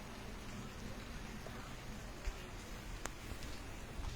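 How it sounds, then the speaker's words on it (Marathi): Steady rain falling over a town area during a monsoon downpour, a continuous soft hiss of drops with a few sharper patters, fairly quiet and even throughout with no talking. "लाईव्ह पाऊस आपल्यापर्यंत पोहोचेला"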